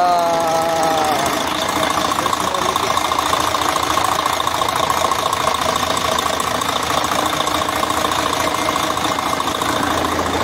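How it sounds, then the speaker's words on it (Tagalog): A Mercedes Actros truck engine warming up after a top overhaul, running at a steady, loud idle with a continuous mechanical knock and hum close by, no speech over it. "Now we are going to warm up this engine"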